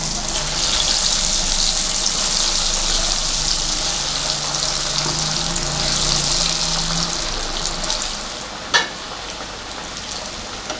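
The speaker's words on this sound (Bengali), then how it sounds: "এক একটা করে আমি ধোকাটাকে খুব ভালো করে ভেজে নেব" Dhoka lentil cakes deep-frying in hot oil, a steady loud close sizzle running throughout with a faint low hum and one brief click near the end; no speech.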